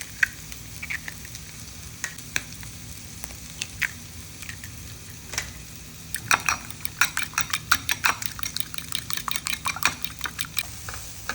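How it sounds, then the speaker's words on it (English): Eggs being beaten in a bowl for Parsi-style akuri, a fork or whisk clicking in quick, uneven bursts that grow busier and more rhythmic partway through, close and alone over a soft background hiss. "In the meantime, beat 2 eggs."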